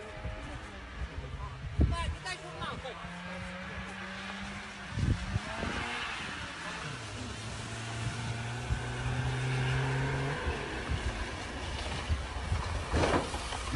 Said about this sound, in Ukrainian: Машина їде